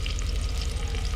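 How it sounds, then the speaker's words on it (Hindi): Chopped onions sizzle steadily in a hot pan of oil for a vegetable dish, a close, continuous crackle with no pauses and no voices. "इसको फ्राई कर लेते हैं।"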